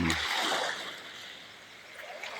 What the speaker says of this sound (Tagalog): alon nagdadala, nag-aakyat ng mga buhangin dito sa taas ng tabi ng dagat.